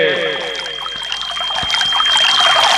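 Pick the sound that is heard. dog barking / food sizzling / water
water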